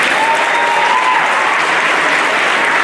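An audience at a middle school seventh-grade academic awards ceremony applauds, producing a full, continuous roar of clapping that stays loud and steady throughout.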